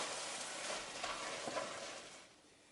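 Chicken risotto stirred in a pan, a soft continuous sizzle with gentle scraping strokes, close and fairly quiet, fading out at the end.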